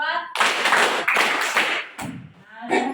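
A seventh-grade class claps in counted rounds at a teacher's call, producing several dense bursts of many hands together, separated by brief gaps, with a voice speaking between them.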